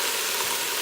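Beef browning in an Instant Pot gives a steady broadband sizzle, a brief close continuous hiss with no talk.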